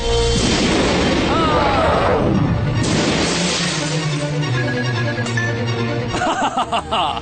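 Dark Magician's Dark Magic Attack from the Yu-Gi-Oh anime lands as a loud, sustained blast of booming, crashing energy, with sweeping tones and a rumbling impact that fades into scattered bursts and pops at the end.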